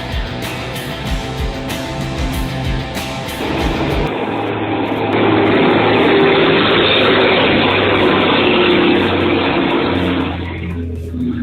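Heavy truck engine hydrolocking after taking on water: loud roaring, straining engine noise with rough mechanical churning that shifts abruptly into a steady, dense rumble and then cuts off near the end.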